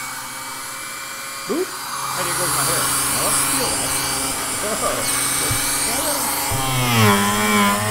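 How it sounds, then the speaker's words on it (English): Miele C3 Cat & Dog vacuum cleaner switched on by foot and running steadily with a loud, continuous motor whine, while a person talks over it throughout. "I'm going to use my foot to turn this on. We have the vacuum cleaner down here now."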